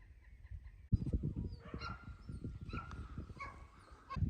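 A herding dog working goats out of a farm yard, with sharp barks and yips over scuffling movement, close by and fairly loud.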